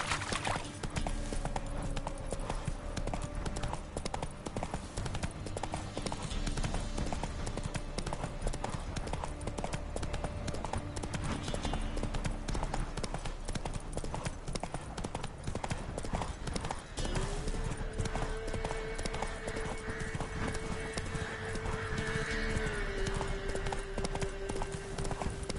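Roach the horse gallops in The Witcher 3, fast rhythmic hoofbeats drumming continuously and close for the whole stretch, loud and steady, with faint tonal music or ambience underneath.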